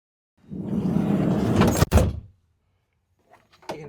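A van's sliding door rolls open with a loud, sustained rumbling slide lasting under two seconds, ending in a sharp metallic clunk as it latches, followed by faint rattles.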